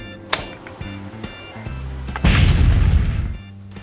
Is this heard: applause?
no